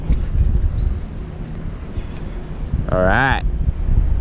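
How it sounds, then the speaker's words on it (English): Strong wind buffets the microphone on a lake during kayak fishing at a large spillway, a loud continuous low rumbling roar with a brief spoken voice partway through. "Yes, it's getting crazy windy."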